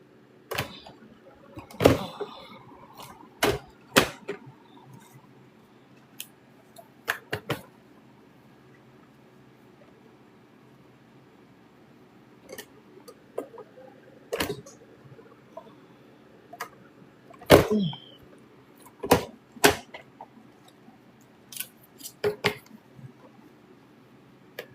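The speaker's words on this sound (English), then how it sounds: "So let me go ahead and punch my paper." A Cinch binding hole punch bites through stacks of lined notebook paper, producing sharp, isolated clunks and clicks spaced irregularly, with quiet pauses between each press.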